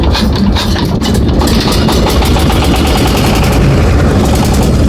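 A trawler boat's engine at Mawa ghat on the Padma river runs loud and steady with a heavy low throbbing drone, close and unbroken throughout.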